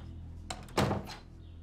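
A door closes indoors with a soft muffled thunk after a brief click of the handle, close by and fairly quiet.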